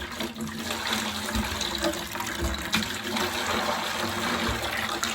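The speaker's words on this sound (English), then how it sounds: "we can also manually get water right into a 5-gallon bucket" Water splashes steadily into a 5-gallon bucket from a manual lever hand pump at an off-grid propane and water setup, a continuous close rushing pour with slight surges throughout.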